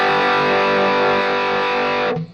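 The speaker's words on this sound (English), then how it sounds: "you can get that little bit more distortion" A Marshall 25/25C Mini Jubilee guitar amp from 2020 roars with extra distortion from its push-pull input gain, a loud sustained crunchy chord ringing alone before cutting off abruptly near the end.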